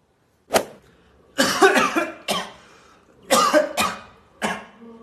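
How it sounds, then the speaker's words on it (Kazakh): A cigarette smoker coughs hard and close by in separate bursts, roughly six rough hacks with short pauses between them and a throat-clearing edge. "Айттым саған, темекіде жөтеліп жатсың, брат."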